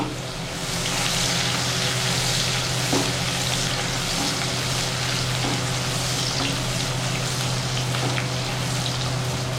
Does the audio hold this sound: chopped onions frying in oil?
yes